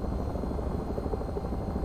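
AH-64 Apache helicopter in a video game, twin engines running with low rotor speed, giving a steady dense whine and rotor drone that holds loud and close throughout, with no voices.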